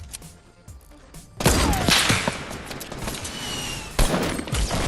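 Rapid bursts of gunfire in the Fortnite Battle Royale video game, a quieter stretch giving way to loud, dense shooting from about a second and a half in, with another sharp burst near the end.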